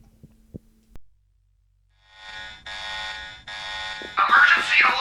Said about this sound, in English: What's that alarm?